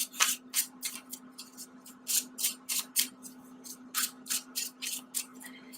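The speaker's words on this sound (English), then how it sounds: "I'm going to do a really quick additional shuffle" Tarot cards riffled and shuffled by hand in quick bursts of crisp papery flutters, about a dozen rhythmic rustles close up, with a steady faint hum beneath.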